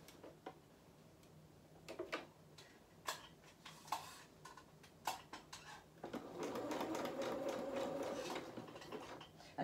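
A sewing machine stitches the edge of a doll's dress skirt, starting with scattered ticks and clicks before settling into a steady, quiet, continuous run of stitching.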